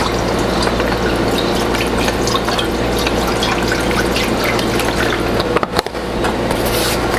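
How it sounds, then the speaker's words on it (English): Chicken broth pours steadily into a frying pan for several seconds, a continuous close liquid splash and trickle, briefly broken near the end by a small clatter. "I'm going to be putting in some chicken broth"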